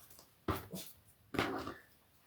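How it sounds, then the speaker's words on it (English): A small Pekingese and Pomeranian mix dog indoors makes two short whimpering yelps about a second apart, close and moderately loud. "We have 4 little dogs."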